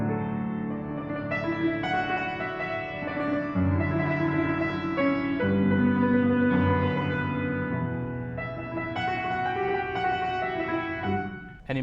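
Piano played with continuous tremolo, rapid repeated notes shifting through chords over about twelve seconds, steady and moderately loud with no talking.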